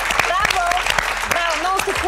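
Audience applause on a Bulgarian entertainment show, quick rhythmic clapping that runs under a person speaking in a lively, expressive voice throughout.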